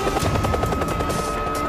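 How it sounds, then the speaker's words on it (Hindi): Helicopter arriving for a test, its rotor giving a loud, rapid, steady chop that fills the whole stretch with no voices over it. "हेलीकॉप्टर सही समय पर पहुंचता है और टेस्ट शुरू करने का इशारा करता है"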